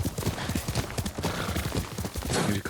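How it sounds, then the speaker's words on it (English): Horse hooves clip-clop steadily and close in the video game Ghost of Tsushima, a continuous rhythmic trotting with occasional snorting and ambient movement layered over it. "Yuriko's horse. She can't be far."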